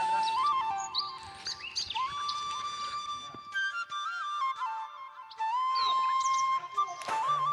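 Birds chirp and whistle close by in a village in Pakistan, with bright tonal calls and trills repeating over a quiet outdoor background.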